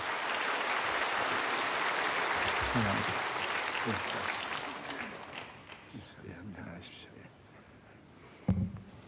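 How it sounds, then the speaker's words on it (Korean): A church congregation gives a welcoming round of applause as a member comes up to give testimony. The broad, steady clapping fills the room, then fades away, and a voice speaks briefly near the end. "박수로 환영하겠습니다"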